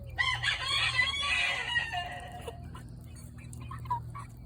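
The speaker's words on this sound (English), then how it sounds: "Is you gonna try to crow, young rooster?" A young rooster gives a single scratchy, uneven crow at close range, trailing off into soft clucks and quiet farmyard background.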